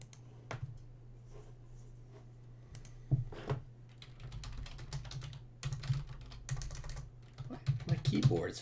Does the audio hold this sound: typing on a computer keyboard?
yes